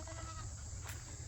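Goats on a small farm give a brief, faint bleat, barely rising above a steady background hum and hiss.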